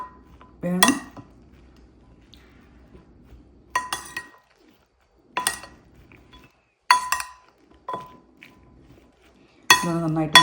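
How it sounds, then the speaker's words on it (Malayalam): A spoon clinks and scrapes against a bowl while creamy broccoli salad with mayonnaise is mixed, in short separate bursts of bright clatter with near-silent gaps between them. "നന്നായിട്ട് മിക്സ് ചെയ്തെടുക്കുക."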